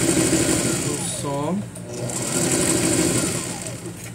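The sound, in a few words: sewing machine stitching a straight seam on a skirt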